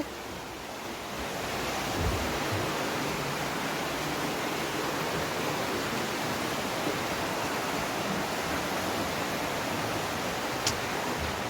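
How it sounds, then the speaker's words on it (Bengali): Geroldsau waterfall near Baden-Baden, Germany, a continuous broad rushing roar of falling water, steady and fairly close, with no voices. "এই যে ঝর্ণাটা এটা"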